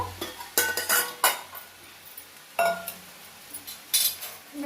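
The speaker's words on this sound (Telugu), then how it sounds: "దీంట్లో గిన్నెలోకి వేసుకుంటాను." A utensil clinks and scrapes against a metal pot as cooked chowdakaya curry is served into a bowl, several sharp clattering knocks spaced irregularly, close and fairly loud with no talking.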